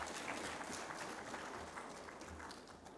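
A faint wash of audience applause fills a conference hall, a dense, soft patter of many hands that stays steady throughout.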